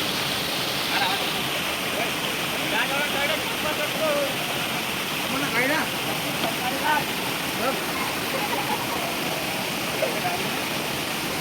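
Koshmal waterfall in Dang, Gujarat, gives a steady, dense roar of falling water that fills the whole scene without pause, with faint voices or birdsong drifting above it.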